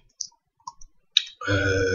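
A single key press on a computer keyboard, the Tab key, gives a sharp click near 1.2 s, with a few fainter clicks before it and a steady hum after.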